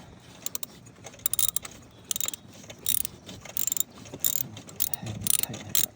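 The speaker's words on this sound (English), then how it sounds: "All right, ratchet on righty-tighty. Go back down. Find that bolt." Ratchet clicks in short repeated bursts as a bolt is tightened on a 2006 Volvo S60 T5 engine during idler pulley and water pump work, close and fairly crisp over faint mechanical background.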